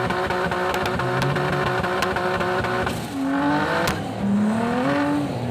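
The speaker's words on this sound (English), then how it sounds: "I blew it up doing this burnout" An Audi doing a burnout, its engine held at a loud, steady high rev with a dense roar, then dipping and climbing again in two rising sweeps near the end, with no talk over it.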